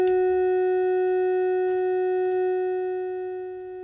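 A steady sine tone from oscillator 2 of an ST Modular Oberhausen synth holds one pitch with faint harmonics above, sounding alone and fairly loud before tapering slightly at the end.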